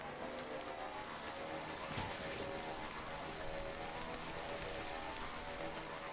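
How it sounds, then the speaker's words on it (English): Steady rain falls in the video game Death Stranding, a constant hiss of drops spread evenly across the clip as the player enters a new area, with no voices over it. "Entering a new area and it's raining."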